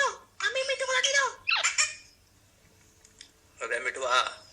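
A pet parrot makes loud, raspy squawks and chattering, speech-like calls in three bursts with quiet gaps between them.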